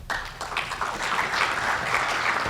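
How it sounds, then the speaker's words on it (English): An audience at a coatings industry conference breaks into sustained clapping that swells after a sharp start and stays dense and even throughout. "give them a round of applause now"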